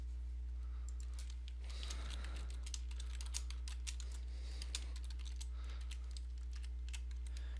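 Typing on a computer keyboard while entering software catalog details, with a steady run of light key clicks close to the mic over a low constant hum and no talk.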